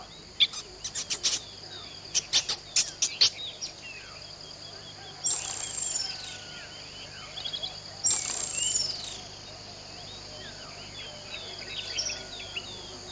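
Calls of the picaflor, a native bird of Robinson Crusoe Island, sound as a few short high chirps early on, then two longer, clear whistled notes, moderately near over a quiet outdoor background with insect hum.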